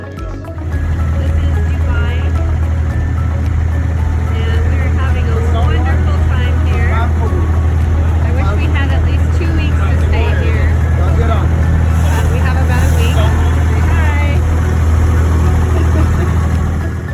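A boat engine idles and chugs with a low, steady rumble close by while crossing a river in Dubai, while people talk over it.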